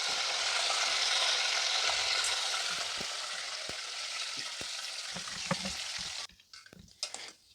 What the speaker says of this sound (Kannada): ಅನ್ನಕ್ಕೆ ಬೇರೆ ಒಗ್ಗರಣೆ ಹಾಕ್ಕೊಳ್ಳೋಣ.